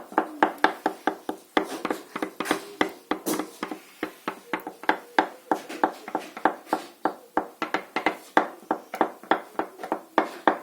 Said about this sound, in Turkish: biraz süt alıp şöyle karıştırıyorum. Hızlı karıştırıyorum.